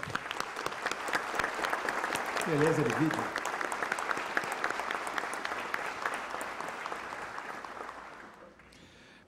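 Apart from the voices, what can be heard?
audience applause for the Air Force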